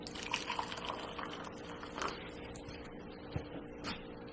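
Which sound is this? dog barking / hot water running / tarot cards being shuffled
hot water running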